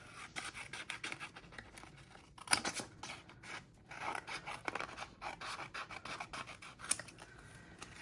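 Scissors snip and rasp through a paper planner sticker at close range, a run of quick crisp cuts and scratchy slides with a couple of sharper clicks, quiet and alone.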